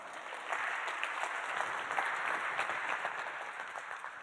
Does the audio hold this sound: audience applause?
yes